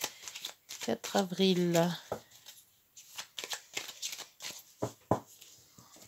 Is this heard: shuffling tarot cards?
yes